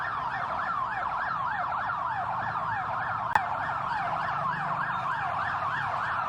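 An ambulance siren wails through turning road traffic in a loud, steady, repeating rise-and-fall pattern, with one sharp click partway through.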